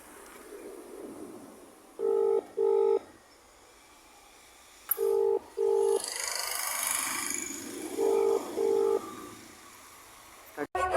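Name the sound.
phone dialing tones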